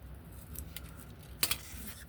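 Scissors cut tracing paper along a score line, giving two quick, crisp snips close by after a quiet stretch of faint rustling.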